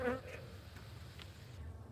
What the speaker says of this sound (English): there's actually quite a few bees here.